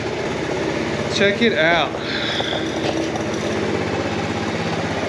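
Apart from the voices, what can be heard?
Honda ATC 70 engine idling with rebuilt carburetor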